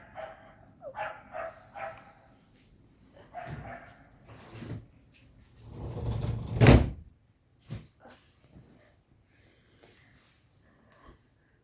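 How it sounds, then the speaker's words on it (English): A door being closed indoors, a solid thump preceded by shuffling movement and a dog's snorts and low barks, fairly close, followed by quiet. "I had to just close the door"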